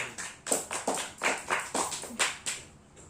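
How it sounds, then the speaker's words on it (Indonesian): A classroom of primary school children clapping for the first group, a brief run of sharp separate claps in a steady rhythm, fairly faint and with no talk over it. "tepuk tangan untuk kelompok 1"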